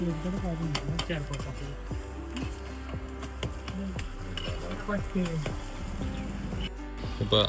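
Omelette cooks on a street food stall griddle at Malshej Ghat, a steady soft sizzle under clinking and scraping utensil sounds, with talk and background chatter throughout.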